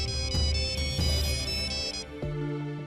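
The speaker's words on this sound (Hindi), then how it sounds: "किसका फोन है? उठा लीजिए ना।" A loud electronic phone ringtone plays a repeating melodic pattern for about three seconds, with no voices.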